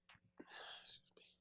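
A single quiet sneeze, with a short breathy intake and then a burst, heard faintly in a podcast setting.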